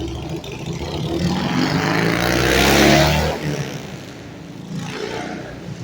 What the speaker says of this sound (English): let this motorcycle pass by. It's kind of loud.